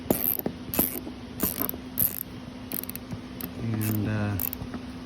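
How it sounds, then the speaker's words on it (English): Quarter-inch socket ratchet backing out T25 screws from the protective bottom plate of a 2009 Audi Q5, heard as several close, quick bursts of clicking with a short whirring run near the end. "A little 1/4-inch socket,"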